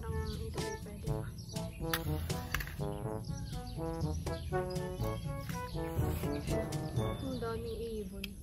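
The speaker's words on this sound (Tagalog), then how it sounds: "Ang daming ibon." A flock of many birds chirping together, with dense overlapping tweets and calls at moderate distance, fairly faint but continuous, with a few sharp clicks mixed in and no speech.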